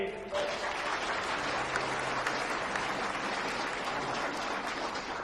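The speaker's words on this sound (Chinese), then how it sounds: "掌声有请" A large audience applauds at a seminar, producing a dense, steady wash of clapping that starts abruptly and continues evenly, with faint voices underneath.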